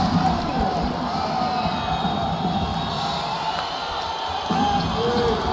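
A basketball arena crowd cheers and roars during a college men's game, a broad, sustained wash of noise with occasional whoops, swelling slightly near the end.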